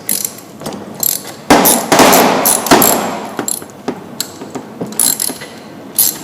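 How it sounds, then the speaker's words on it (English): A ratchet with a 10mm socket clicks rapidly in bursts while loosening crankcase cover bolts on an 87cc small engine, loud and close, with brief pauses between turns. "make sure that your ratchet is going in the loosening position, and you can loosen up your bolts."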